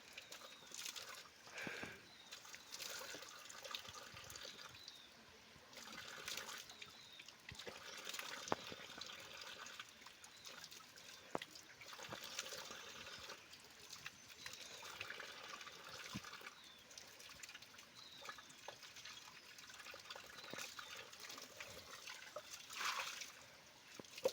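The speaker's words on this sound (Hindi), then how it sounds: "इतना ठंडा पानी आ रहा है कि पूछो मत।" Very cold water flows in a mountain farming area, giving a faint, continuous trickling and splashing with small surges, heard fairly quietly from close by.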